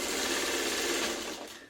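A sewing machine runs a quick, steady burst of stitching along a seam joining a Triple Sawtooth Star quilt block row, loud and close, then winds down at the end.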